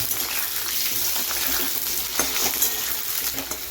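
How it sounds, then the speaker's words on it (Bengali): Potato pieces fry in oil in a pan for ghugni, a close, bright crackling sizzle with a few sharper pops and faint stirring scrapes, no talking. "তো আলু এখানে ভাজা হচ্ছে, এখনো ভাজা হয়নি"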